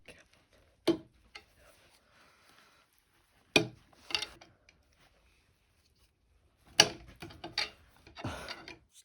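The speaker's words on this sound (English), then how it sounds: "we levered it against these bolts and then popped it out like that" A pry bar levers a bearing race out of a van's axle against the bolts, making a few sharp metallic knocks and scraping clunks spaced several seconds apart with quieter rubbing in between.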